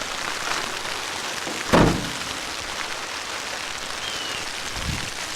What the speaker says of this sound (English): Alright, it's raining good now.